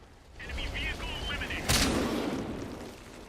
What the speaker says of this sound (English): That guy just shot one shot.